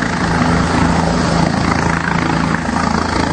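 A helicopter arriving at Toussaint Louverture International Airport in Haiti, its steady rotor thump and engine roar loud and close throughout, with no talk over it.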